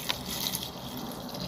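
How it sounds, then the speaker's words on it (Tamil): Water poured into a pot of dal for Singapore paruppu kootu, a steady soft splashing stream heard close and alone for a moment. "தண்ணி வேகிறதுக்காண்டி கொஞ்சம் தண்ணி ஊற்றுறோம்."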